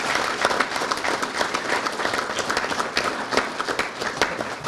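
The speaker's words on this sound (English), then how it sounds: "if you would please give them a round of applause" A school board meeting audience gives a round of applause, brisk uneven clapping from a moderate crowd heard alone for several seconds.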